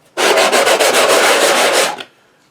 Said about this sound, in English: So we'll just take these pieces and run them across some sandpaper